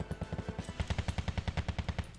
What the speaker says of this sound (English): Heavy machine guns going right through the side of that unit.